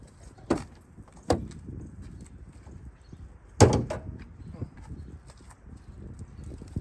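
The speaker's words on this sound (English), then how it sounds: "So I'm gonna open the hood" Hood of a Ford Edge being opened: a few sharp metallic clunks and clicks close by, including a louder latch release and thud, over low background noise.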